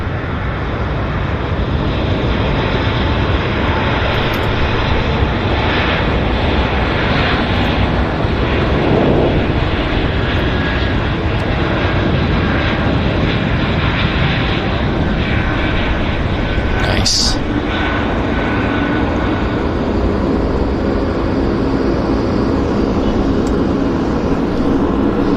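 Jet engines of an airliner spool up into a sustained, loud roar on the takeoff roll at Vancouver airport, a dense unbroken rumble lasting throughout, with a voice speaking over it.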